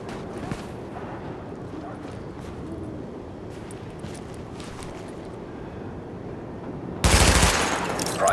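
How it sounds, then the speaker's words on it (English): Rapid gunfire from a weapon test at highlighted targets in the video game The Division, a steady dense rattle of shots running throughout, ending in a louder, brighter burst near the close. "Open fire at the highlighted targets."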